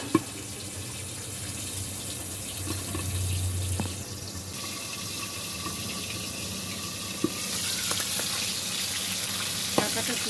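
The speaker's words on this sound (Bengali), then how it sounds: "একটু ঢাকা দিয়ে ভাজছি বন্ধুরা, কেননা খুব ঠিক যাচ্ছে মাছটা পাট করে।" Fish fries under a lid in a pan of oil, a soft continuous sizzle and hiss that stays steady and fairly quiet, with a few faint clicks.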